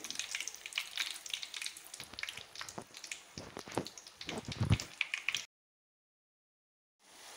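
Dry fruits frying in hot oil, a dense close crackle and sizzle with scattered pops that cuts off abruptly, then faint sizzling returns after a silent gap.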